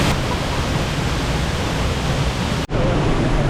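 Waterfall at Gibson's Cave, a steady loud broadband roar of falling water close by, continuous and unbroken apart from a brief dip near the end.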